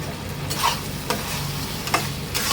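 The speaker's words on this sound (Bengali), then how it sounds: "এই মুহূর্তে এর মধ্যে ভেজে রাখা আলুগুলো দিয়ে দেব।" Fried potatoes stirred into cashew paste in hot oil, a steady close sizzle under scraping spoon strokes with a few sharper clinks, no talking.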